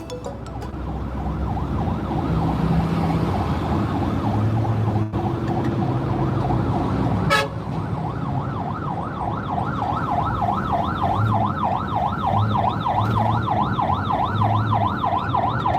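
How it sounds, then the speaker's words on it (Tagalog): An ambulance siren wails continuously and fairly loudly, its pitch sweeping up and down in a steady, fast warble with traffic rumble underneath. "Parang may ambulansya."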